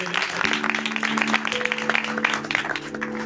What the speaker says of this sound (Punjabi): ਉਹਦੇ ਕਲਾਮ ਦੇ ਲਈ ਜ਼ੋਰਦਾਰ ਤਾੜੀ ਮਾਰਾਂਗੇ